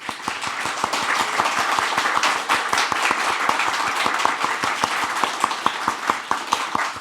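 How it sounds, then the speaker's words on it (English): A church congregation applauds steadily to welcome newcomers, many hands clapping close by in an even, sustained round. "Let's welcome with a round of applause Matthew Winhold, Simeon Berry, and Jared and"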